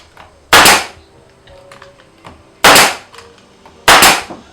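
A nail gun fires pieces into a wooden beehive: three loud, sharp, close bangs spaced one to two seconds apart, each followed by a brief decay, with quiet between shots.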